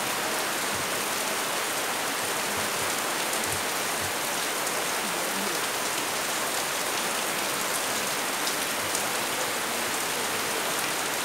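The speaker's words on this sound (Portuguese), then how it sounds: "Não sei se o barulho da chuva vai incomodar." Rain falls outside in a steady, even wash of noise, moderately quiet and unbroken throughout, with no voices over it.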